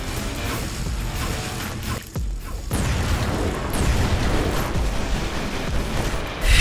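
A robot weapon firing and exploding in the War Robots video game, heard as a dense, continuous roar of booming blasts and mechanical rumble, loud throughout with a brief dip partway through.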